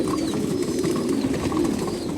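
Racing pigeons, a few males among many females kept together in a pen, give soft overlapping coos over a constant low murmur of background noise.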